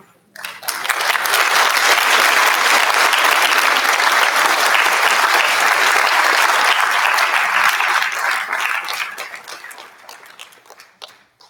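A school audience at a senior scholarship ceremony breaks into a loud, sustained round of applause that swells quickly, holds steady for several seconds, then tapers off near the end.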